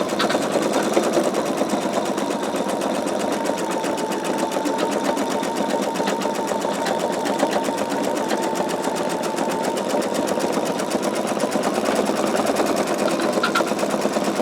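An embroidery machine stitches out layers of an in-the-hoop wallet, running a steady, fast, even needle rhythm at close range for the whole stretch with no talking.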